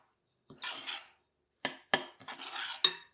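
A utensil scrapes and stirs dry egg white powder, baking powder, baking soda and gelatin in a bowl in short separate bursts, close and clear with quiet gaps between strokes.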